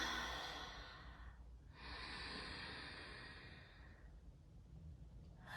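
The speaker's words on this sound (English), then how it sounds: "Let's seal it up with 3 breaths." Three deep yoga breaths in a quiet room, a soft, close exhale followed by two more slow, breathy sighs, faint and alone.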